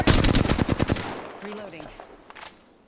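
Rapid video game machine-gun fire, a loud close burst of about a dozen shots that stops abruptly and leaves a fading echo and faint ambient tones.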